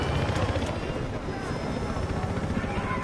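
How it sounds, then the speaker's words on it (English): Aircraft engine drone fills a video game scene, a steady broadband roar with no break, loud and continuous, likely an airplane passing close overhead. "There's another airplane here."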